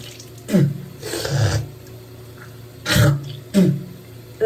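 Short bursts of water splashing and gurgling, as if rinsing from a running tap, separated by quiet pauses.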